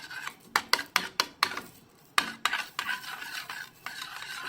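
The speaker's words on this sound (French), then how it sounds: "il faut tout le temps touiller pour pas que ça brûle et que ça devienne liquide" A coconut mixture stirred in a pot on the stove, with a rhythmic series of loud scraping strokes of a utensil against the pot, a short pause, then quicker scrapes over a faint hiss.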